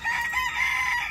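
A fighting rooster crowing, one loud, close, sustained cock-a-doodle-doo heard alone.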